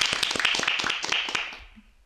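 An audience claps loudly in a burst of dense, rapid applause that carries on for about a second and a half before fading out.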